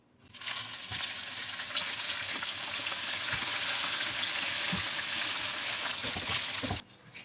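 Fish pieces coated in gram flour batter deep fry in hot oil, a loud, dense, steady bubbling sizzle that starts suddenly, runs with faint clicks, and cuts off near the end.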